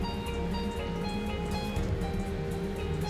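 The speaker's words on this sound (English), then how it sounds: "Still it is drizzling." Light rain drizzles steadily at a lake view resort in Wayanad in the evening, a soft, even patter of drops with a faint low hum underneath and no voices.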